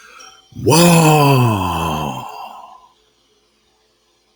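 A voice imitates a dragon breathing fire, a roaring, breathy rush in a single loud sustained exhale with a falling groan that fades after about two seconds.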